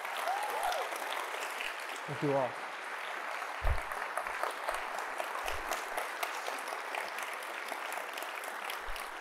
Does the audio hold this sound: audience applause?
yes